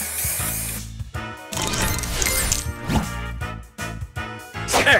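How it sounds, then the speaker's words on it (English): Spray booster effect in the mobile game Match Masters: a loud hissing spray burst layered with punchy game sound effects and stuttering electronic tones, several bursts in quick succession with brief gaps. "Spray this!"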